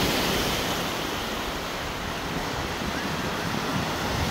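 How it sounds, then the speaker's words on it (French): Waves washing onto an uncrowded beach, a steady broad wash of surf with wind, continuous and even with no voices. "Je pourrais rester là des heures, là, en entendant le bruit des vagues et tout."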